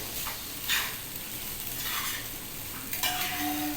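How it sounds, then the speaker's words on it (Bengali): Leftover rice being stirred and tossed in a frying pan with curry leaves, a steady sizzle broken by scraping spatula strokes that come in bursts, close and fairly loud, with no talking. "ভাতগুলো সব এপাশ ওপাশ করে ভালো করে মিশিয়ে দিলাম"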